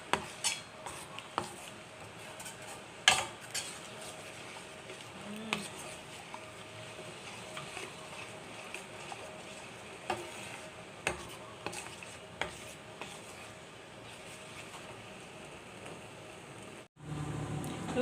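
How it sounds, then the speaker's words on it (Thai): Coconut milk curry for southern Thai noodle gravy with canned tuna gets stirred in a pot, with scattered scrapes and taps of a utensil against the metal over a soft bubbling background, fairly quiet and close. "ตอนนี้เราก็คนคนหน่อยนะคะอย่า เดี๋ยวกะทิมัน จะแตกมันค่ะ"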